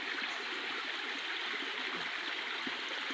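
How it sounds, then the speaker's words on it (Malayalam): A stream that had been dry for months runs full after heavy rain, a steady rushing, gurgling flow heard up close with no voices. "തോട്ട് കൂടിയൊക്കെ നല്ല വെള്ളം ഒഴുകാൻ തുടങ്ങി."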